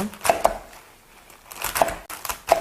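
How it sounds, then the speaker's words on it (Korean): A knife chops through mustard greens on a cutting board in a few quick clustered strokes, separated by short quiet pauses. "넓으니까 조금 더 잘게 썰어줄게요."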